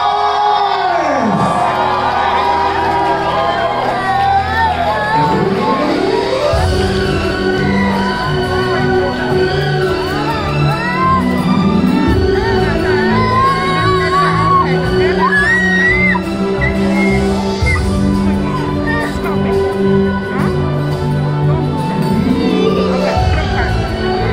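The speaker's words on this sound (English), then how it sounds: "Let's make some noise!" Wedding party guests shout and cheer loudly over thumping, pulsing music, with whoops, yells and crowd noise rising and falling through the stretch.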